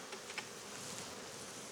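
Honeybees buzz around a lychee honeycomb, a soft steady insect hum close by with a few brief louder passes, no voices.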